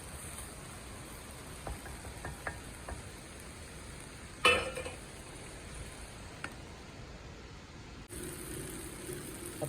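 Carrot and tomato being stirred in a frying pan for masala dosa filling, a faint steady sizzle with a few soft scraping strokes and one sharper clink midway.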